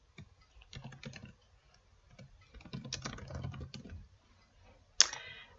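Someone types on a computer keyboard in short irregular bursts of close, light key clicks, ending with one sharper key strike.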